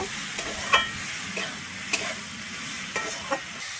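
Chopped banana flower fries in a pan with sugar, giving a continuous close sizzle broken by several scraping stirs of a spatula, with no talking.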